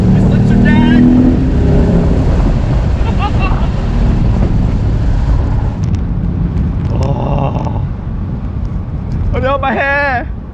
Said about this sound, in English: Put on to sport mode and the flat control M Sport exhaust system just comes to life.